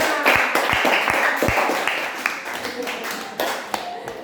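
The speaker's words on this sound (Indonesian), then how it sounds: "Tepuk tangan." A classroom of students claps hands after a group presentation, a sustained scattered patter with a few sharper individual claps, moderately loud over a busy room.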